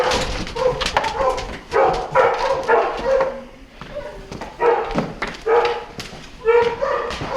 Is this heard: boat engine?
no